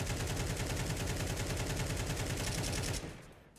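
Rapid, evenly spaced gunshots in Counter-Strike 2 fire in a continuous burst for about three seconds, loud and close, then abruptly stop and fade out.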